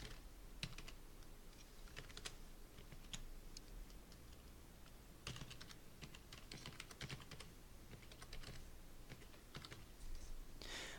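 Quiet, uneven clicking of keys on a computer keyboard as an email address is typed, bursts of taps separated by short pauses, close and soft with no voices.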